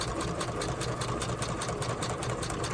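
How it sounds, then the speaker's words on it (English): A sewing machine stitches straight down the edge of a sheet of paper, its steady rapid needle rhythm humming evenly and close throughout with no talking. "I'm going to sew straight down this edge"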